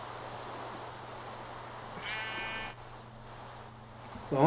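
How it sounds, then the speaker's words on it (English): A single video-game sheep bleats midway through, clear but moderate, over a steady low background hum, with a brief sharp noise at the very end. "Hey, there's our sheep."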